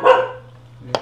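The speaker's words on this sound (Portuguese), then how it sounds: "Ele tá latindo pra quem?" A single dog barks outdoors on a rural property in the Amazon interior, one close, loud bark followed by quiet, then a short sharp sound at the end.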